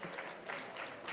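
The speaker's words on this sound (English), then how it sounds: "Can we give a big round of applause to Uncle Charles?" Very faint, short burst of audience applause at a diabetes awareness and fundraising event, an even patter of many hands with no speech on top.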